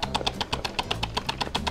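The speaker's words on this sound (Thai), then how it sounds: "ถ้าเรากดปุ่มสตรีมเนี่ยเราจะได้ยินเสียงมอเตอร์แบบนี้ครับ" The pump motor of a Bissell Vac & Steam steam mop starting up, heard as a faint, rapid series of regular clicking pulses over a low hum.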